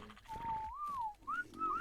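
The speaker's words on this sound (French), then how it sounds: "j'aime bien siffler." A person whistling a short melodic phrase, a few clear sliding notes with brief pauses, fairly close and quiet, no talking.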